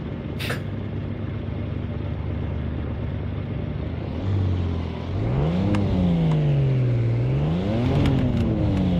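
A Lamborghini engine in Assetto Corsa idles with a steady low drone, then revs up and down in rising and falling sweeps. It is loud and close, with no talk.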